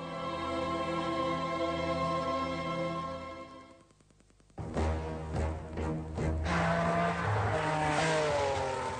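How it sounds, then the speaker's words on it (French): A young man's car arrives at high speed in a radio drama scene: a steady engine drone falls away briefly, then bursts back loud and close with a rising roar and squealing, revving texture, with no talking. "un jeune homme nommé Anoto Benelli arrive à toute vitesse avec sa voiture."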